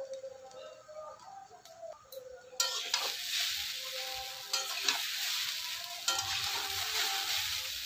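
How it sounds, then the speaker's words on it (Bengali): Chow mein fries in a pan. A soft, quiet start gives way to a loud, dense sizzle that keeps going, with stirring scrapes now and then over the hiss. "এবার আমি ভালো করে ভেজে নেব। ভালো করে নেড়ে নিয়েছি"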